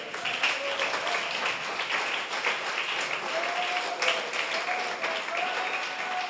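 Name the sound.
church congregation applause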